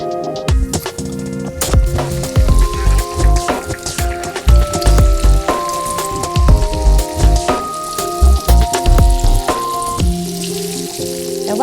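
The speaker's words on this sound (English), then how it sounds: "And then quickly deep fry them." Oil crackles and sizzles steadily with dense popping bubbles as fish deep fries until golden, while music plays throughout, fairly loud and close.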